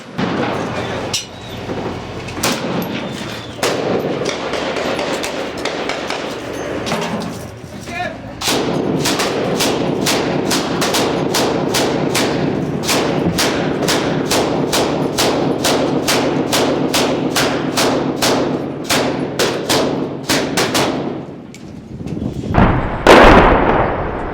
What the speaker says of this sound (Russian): На правом фланге позиции боевиков обрабатывают Шилка и пехотинцы.